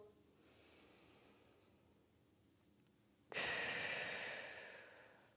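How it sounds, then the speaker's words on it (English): A person breathes audibly through a gentle full-body Pilates stretch: a soft, steady inhale followed by a sudden, loud, breathy exhale that fades slowly, close to the microphone. "Keep breathing, you got it."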